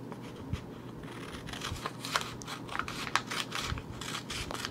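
Scissors cutting a paper pants pattern: a close, continuous run of snips and paper rustles at a steady pace with brief sharper clicks, and no talking.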